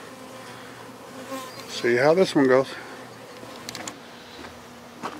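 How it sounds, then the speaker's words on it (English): A honeybee swarm clustered in a peach tree fills the air with a steady hum. Louder, close buzzing from bees passing near the listener swells and fades over it, and a person speaks briefly. "I'm gonna put this box under the bees and I'm gonna shake the tree so the bees fall in the box"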